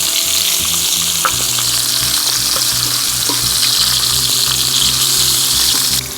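Chunks of pork belly and potatoes fry in a pan for a hunter-style potato dish, a loud, steady sizzle and crackle of hot fat running throughout without pause, close up and alone.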